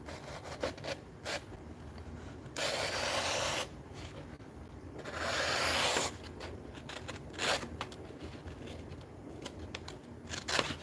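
An old masonry chisel reground for woodworking cuts into wood, giving bursts of rasping, scraping strokes, two long loud shaves among shorter scratchy taps, close up with no talk.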